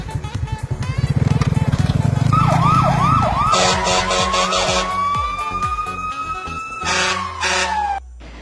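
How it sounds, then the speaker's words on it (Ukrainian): A loud fire engine siren wails with a rising, warbling tone over engine rumble and music, close and sustained before stopping abruptly. "У 101 мерщі дзвони пожежні їдуть. Ось вони."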